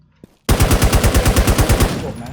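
Rapid automatic gunfire from an AUG rifle in a video game, a loud, close burst of about fourteen evenly spaced shots that then trails off, with no talking over it.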